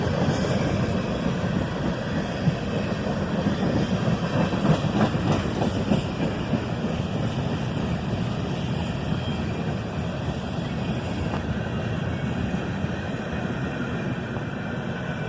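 A freight train with empty center beam cars rolls past at night, a continuous loud rumble with steady clattering of rail cars and wheels, unbroken for the whole stretch.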